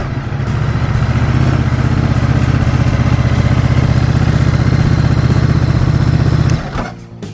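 A Ducati Multistrada 950 motorcycle engine, loud and close, runs with a steady throbbing rumble under light throttle for several seconds, then suddenly drops away near the end.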